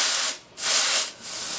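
A Vibiemme Electronic Super HX espresso machine steam wand purges built-up condensation in two loud, full hissing bursts separated by a short pause, with a softer third burst continuing to the end.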